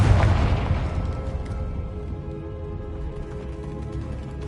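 A Confringo fire spell explodes in Hogwarts Legacy, a heavy booming blast at the start that rolls off into a long fading rumble with scattered crackles.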